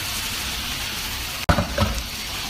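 Onions browning in a very hot pan hiss steadily, then a sprinkle of water sets off a sudden loud burst of sizzling that crackles and fades in short surges.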